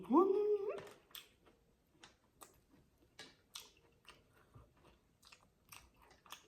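Crunchy food chewed close up, with irregular crisp crunches and bites that keep coming after a brief high whining vocal sound at the start.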